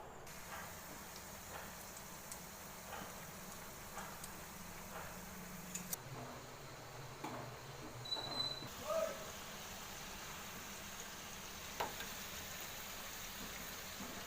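Sweets frying in hot oil until light golden brown beside a sugar syrup warming on the stove, a faint, steady, rain-like hiss with scattered soft pops and ticks, with low voices at times.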